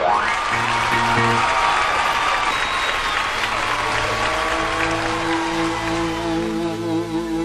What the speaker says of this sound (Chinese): 让我们掌声有请根嘎、熊天平为我们带来《站在高岗上》和《狼》的经典串烧